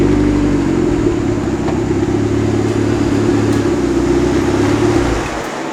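Turbocharged Mazda Miata engine driving on a skid pan, a loud, steady drone held for several seconds before easing slightly at the end, with no talk over it.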